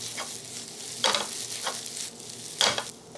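Repeated scraping swishes of a utensil stirring bacon fried rice with melting butter in a hot pan, four strokes at an uneven pace over a soft steady sizzle.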